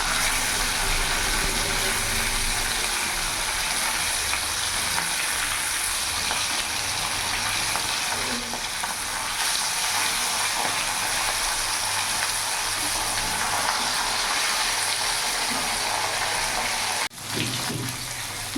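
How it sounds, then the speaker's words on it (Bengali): Sharpunti fish frying in mustard oil in a pan, a continuous close crackling sizzle that holds steady throughout, briefly interrupted once near the end. "মাছগুলো লাল লাল করে ভেজে নিয়েছি"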